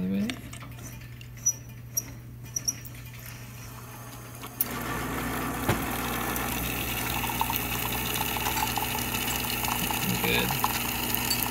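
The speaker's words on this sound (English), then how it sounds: "you have the pump back on constant, recognizing that water's left the boiler and refilling" An Isomac Millenium espresso machine's pump starts after a few small clicks and then hums steadily while it refills the boiler.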